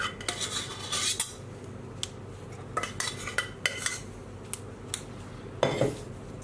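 A spoon scraping and tapping in a metal pan while semolina topping is spread over a knafeh, quiet irregular clinks and scrapes in short clusters over a low hum of the room.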